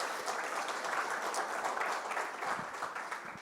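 Audience applause at a panel on artificial intelligence as a tool in the professions, a moderate, continuous patter of many hands that thins slightly toward the end.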